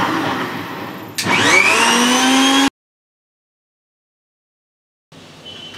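A kitchen blender purées 500 grams of spinach with one or two glasses of water for green juice. Its loud, close motor whirs and rises in pitch, cuts off abruptly into silence, then starts again.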